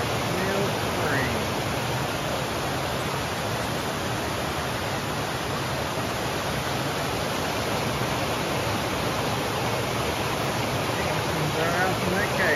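Water from the large Turner Mill Spring outlet rushes steadily along the Eleven Point River, a loud, continuous broadband roar that stays constant and close throughout with no pauses.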